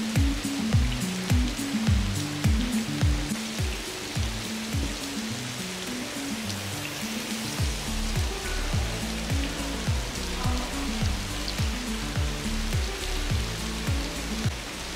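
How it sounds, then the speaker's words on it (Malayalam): Artificial rain showers down steadily inside an indoor rain room, with a dense continuous hiss of water and rapid droplet patter throughout, with no voices. "മഴ പെയ്യുന്നുണ്ട് കേട്ടോ."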